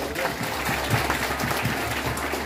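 Audience applause at a school gathering in Labuan Bajo, a room of people clapping steadily at moderate loudness with some voices mixed in beneath the clapping.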